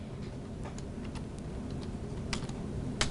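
Faint, sparse keystrokes on a computer keyboard while an equation is typed, a few light clicks spread out over a low steady hum, with two slightly sharper taps near the end.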